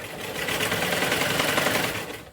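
A sewing machine stitches a blouse dori rope at a quarter-inch seam, its needle running in a fast, steady mechanical whir close by, with no talking.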